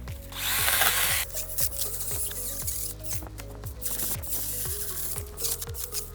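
A STIHL GTA26 mini battery chainsaw cuts through a bush, its electric motor whining steadily while the pitch drops again and again under load as branches are cut, close and continuous with no talking.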